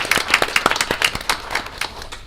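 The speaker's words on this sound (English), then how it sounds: "That's worth an applause." Applause breaks out at a township council meeting, a burst of scattered hand claps from a small crowd that starts brisk and then thins and fades.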